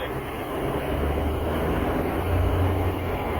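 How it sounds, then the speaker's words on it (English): Steady low diesel engine drone of a Mahindra Thar Roxx SUV with a rising buzzy hum as it accelerates hard, heard from inside the cabin with road rumble beneath. "Now you hear the buzz from the diesel engine."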